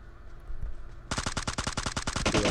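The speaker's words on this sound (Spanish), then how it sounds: "Te están disparando." Rapid automatic gunfire from PUBG Mobile, loud and close, erupts after a second of low background and keeps going as a string of tight bursts to the end.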